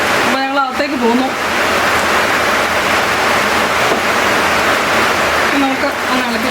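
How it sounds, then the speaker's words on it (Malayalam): Heavy rain falls outside in a steady, dense hiss that fills the whole clip, with brief voices or tonal sounds at the start and near the end. "ഇപ്പോൾ പുറത്ത് നല്ല മഴ നടക്കുവാണ്."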